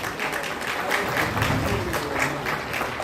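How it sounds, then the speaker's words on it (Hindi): Sustained applause at a Sant Gadge Jayanti celebration ceremony in Jamshedpur, a steady dense clapping from an audience throughout. "तालियां बजती रहे।"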